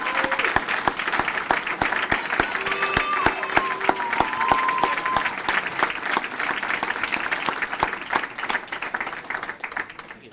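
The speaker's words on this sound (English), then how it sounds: "Please, a nice big round of applause for Mr." Sustained audience applause at a Boys & Girls Club gala, a dense steady wash of many hands clapping with crowd noise and brief cheers mixed in, tapering slightly toward the end.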